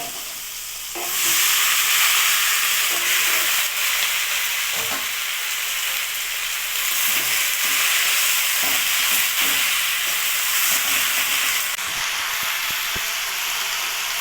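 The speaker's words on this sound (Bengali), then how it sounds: "এখন আমি এখানে কচু শাকগুলো দিয়ে দেবো।" Taro leaves hit a hot pan with turmeric, jumping from a quieter hiss into a loud sustained sizzle, with repeated stirring scrapes and clicks across the rest, no talking.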